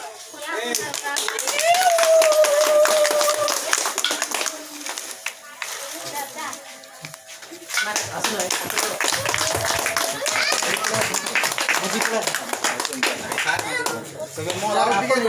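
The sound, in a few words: people clapping hands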